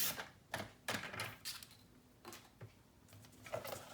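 Scissors or a paper trimmer cut a strip off a sheet of craft paper for a boho Christmas mini album, making a series of quick, close snips and rustles that are soft and irregular.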